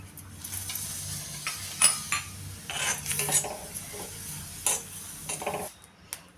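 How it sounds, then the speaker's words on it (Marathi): Fennel seeds and magaj melon seeds dry-roast together in a pan over low gas, stirred with a spoon: a steady soft rustle broken by sparse metallic scrapes and clinks against the pan, close up, with no talking. "आता ही बडीशेप आणि मगज बी आपण एकत्र भाजून घेऊया."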